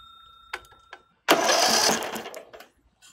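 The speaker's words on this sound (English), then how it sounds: "Now we can try to start our engine and check for spark." A Briggs & Stratton small engine is pull-started during an ignition spark check: a couple of short pulls, then a loud, rough burst of engine noise lasting under a second before it fades.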